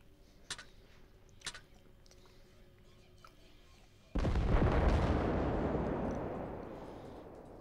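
Naval gunfire in a 3v3 battleship match of a warship video game: two sharp distant shots, followed by a loud, sustained roaring broadside blast that swells at about four seconds and slowly fades.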